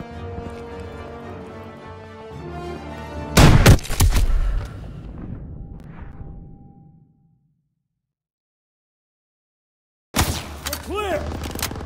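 A launcher blast and gunfire in the Call of Duty WWII hotel mission: a loud, heavy explosion with debris tailing off into silence, then sharp renewed shots and action after a few seconds of quiet.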